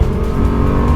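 Bugatti Chiron's 8-litre quad-turbo engine roars loud and steady during a passenger lap of the Nürburgring Nordschleife, a dense unbroken drone with no talk over it.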